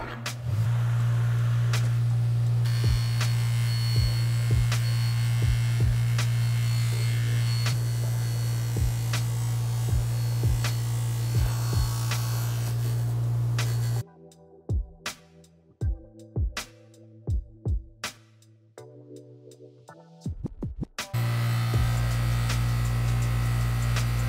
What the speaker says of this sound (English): we're gonna start with the coarse pad first to get all the thick stuff off